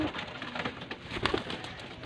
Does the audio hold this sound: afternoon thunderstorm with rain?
no